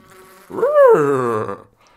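A horse in the video game Minecraft gives a single loud, close neigh lasting about a second, with a whinnying pitch that rises and then falls, and no talk over it.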